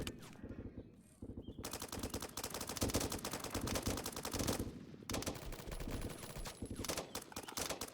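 Rapid automatic gunfire in a military training video game, dense bursts of machine-gun shots fired nearby with brief pauses, loud and sustained.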